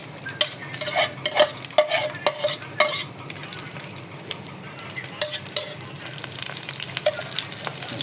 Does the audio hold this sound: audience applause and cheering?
no